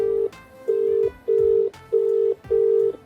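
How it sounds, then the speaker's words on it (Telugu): A phone call ringing out, heard as five evenly spaced electronic beeps of a ringback tone, each about half a second long and separated by short gaps, close and clear with no voices. "రింగ్ అవుతుంది"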